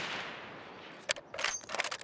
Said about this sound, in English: A lot of suppressed shots.